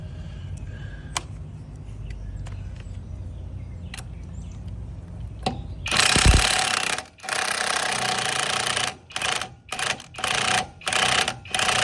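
A chrome impact wrench loosens bolts on an old Dodge, loud rattling hammering bursts that start abruptly and then stop and restart in several short pulses after a quiet stretch of faint clicks.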